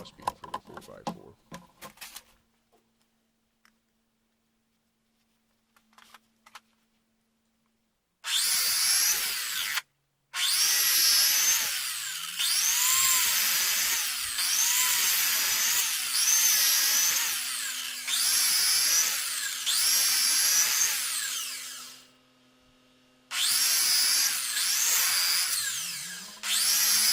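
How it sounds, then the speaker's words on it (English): Power tool cutting slots halfway into a 4x4 wooden crossbeam. Loud whining bursts repeat in a steady rhythm after a quiet start with a few clicks, with brief pauses between cuts. "Now that I've finished cutting the slots"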